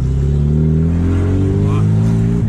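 A Chevrolet Chevette drives along a lakeside road with a steady, loud mid-range engine drone that holds its pitch throughout, heard from inside the car.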